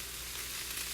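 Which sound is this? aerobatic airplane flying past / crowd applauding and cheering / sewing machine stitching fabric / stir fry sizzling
stir fry sizzling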